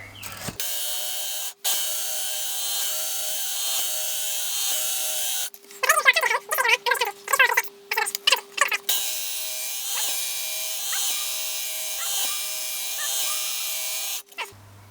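A 9-inch knife is drawn through a Work Sharp MKII powered sharpener, its steady electric motor whine running for long stretches and broken midway by a few seconds of harsher grinding and scraping as the blade passes the abrasive.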